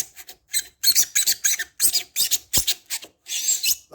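A blade shaves and rasps through hardened expanding foam in a series of quick, scratchy strokes, close and rhythmic, with no talking.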